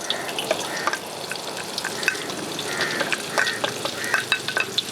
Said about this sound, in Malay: bila minyak dah panas macam ni, kita boleh masuk bahan yang untuk ditumis ni. Bawang putih, bawang holland dengan batang daun bawang.